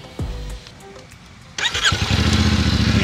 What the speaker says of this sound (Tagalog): And parinig ko sa inyo yung kanyang exhaust sound.